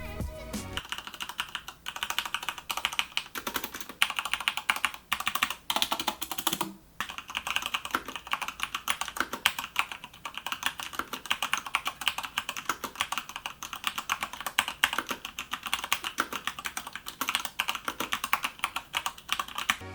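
Fast continuous typing on a Corsair K70 MK.2 mechanical keyboard with Cherry MX Speed switches, a dense rapid clatter of keystrokes close up, steady throughout with a brief pause near the middle.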